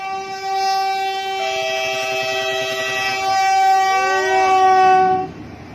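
A train passes close by, sounding a long, loud horn with steady tones that shift slightly as it goes, then fades out abruptly.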